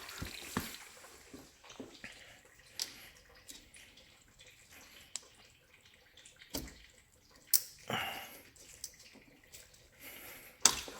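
Coolant drains from a 2015 Subaru WRX with the radiator cap opened to speed the flow, giving close, irregular trickling and splashing with scattered drips and small knocks. No one speaks.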